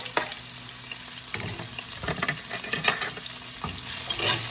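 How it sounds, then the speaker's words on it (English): Onion, scallion and chili pepper saute in a pan for a Jamaican meal, making a constant crackling sizzle with scattered pops and stirring scrapes, close and fairly loud, with no talking. "I'm gonna let this saute"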